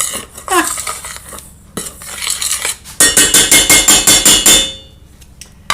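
Scone ingredients are mixed in a bowl with a utensil, heard as clattering scrapes and knocks followed by a run of quick rhythmic tapping against the bowl, close and fairly loud.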